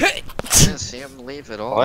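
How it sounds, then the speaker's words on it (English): A person with a cold lets out one sharp, close sneeze burst, with brief speech just before and after. "I'm about to sneeze."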